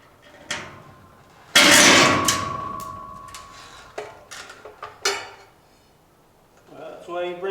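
A hammer drives tacks into a barn beam while cable is run for barn lights, striking in several sharp, close knocks with clattering handling between them and a brief voice near the end.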